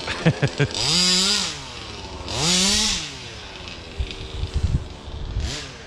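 The small gas engine of a Rovan 5B Baja 1/5 scale RC car revs up sharply twice with a buzzing, high-pitched whine, then idles and sputters, with a few faint voices mixed in.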